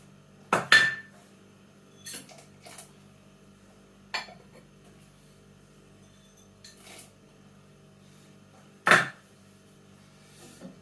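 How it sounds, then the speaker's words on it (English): Hops go into a home-brew beer pot with the heat off, heard as a few sharp metallic clanks and scrapes against the pot, spaced apart over a low steady hum. "Heat off. Final hops in."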